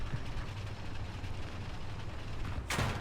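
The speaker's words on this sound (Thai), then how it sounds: "โอ้เสียงระเบิดละ" A dull boom in the tank game War Thunder Mobile, a sharp burst of noise near the end over a steady low rumble of engine and battle noise.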